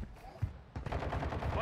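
Gunfire in the Warzone battle royale game: a sharp shot, then a steady stream of rapid automatic bursts, loud and close, layered over game noise.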